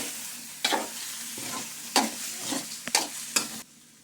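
Ridge gourd curry cooking in a pan in a home kitchen, with a soft steady sizzle. A spoon stirs it in several distinct scraping strokes spaced through the clip, and no one speaks.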